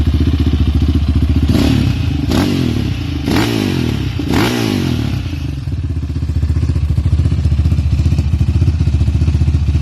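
A 2015 Yamaha Raptor 700 quad bike engine runs loud and close, a steady throbbing idle with a few sharp blips of revving partway through.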